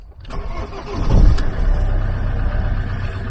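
A Ford Transit MK7 van engine turns over and catches, then settles into a steady, fairly loud idle with a low rumble that continues to the end.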